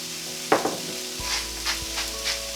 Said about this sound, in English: I don't want to fry them too much.